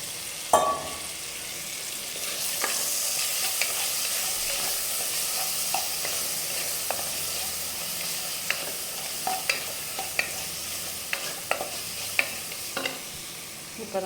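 Chicken frying in a pan for a chicken masala gravy, a steady close sizzle broken by repeated sharp scrapes and clinks of stirring.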